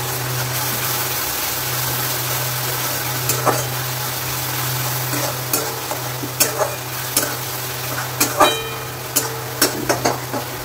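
Garlic and onion frying in a pan, a soft continuous sizzle under a low steady hum, with scattered clicks and scrapes of stirring that grow more frequent toward the end; close up and no voices.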